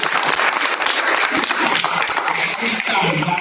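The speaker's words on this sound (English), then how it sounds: "Another round of applause for high school students." An audience applauding high school students at a board meeting, dense sustained clapping filling the whole moment, loud and close.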